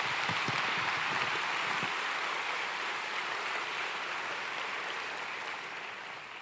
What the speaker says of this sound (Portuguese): Se você crê, dê um aplauso ao Senhor Jesus,